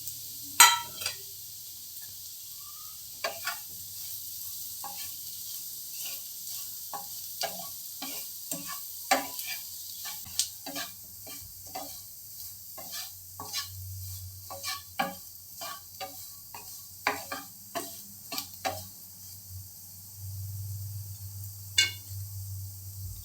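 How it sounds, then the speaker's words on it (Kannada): Sweet potatoes frying in a pan with spices, a soft background sizzle broken by many sharp stirring and scraping clicks at an irregular pace, close and moderately loud. "ಇವಾಗ ಸ್ವೀಟ್ ಪೊಟ್ಯಾಟೊ ಹಾಕ್ತಾ ಇದ್ದೀನಿ"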